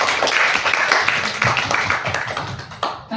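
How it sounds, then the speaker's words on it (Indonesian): A room of teachers and participants at a school workshop breaks into brief, dense clapping that fades slightly toward the end. "Boleh kita beri tepuk tangan untuk kita semua."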